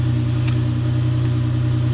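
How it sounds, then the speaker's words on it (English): A Nissan Murano engine idles with an exhaust leak from a large hole in the muffler, giving a steady, loud, low drone with a faint tick partway through and no voices. "idle is fine. There's an exhaust leak."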